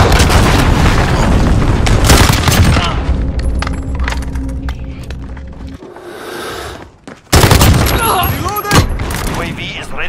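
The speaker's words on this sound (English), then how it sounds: "Allied cruise missile launched." Cruise missile strike in the Call of Duty Modern Warfare video game: a heavy barrage of loud booming blasts and rumbling explosions, a brief near-silent lull, then another sharp detonation followed by continuing battle noise, with radio-style voices.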